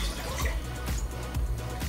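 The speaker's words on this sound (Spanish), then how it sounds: "Lo primero que vamos a hacer es poner en la olla una taza de agua" Water pouring into a cooking pot, a cup of water being added while making pickled eggplant, a steady close splashing stream running throughout with no talk.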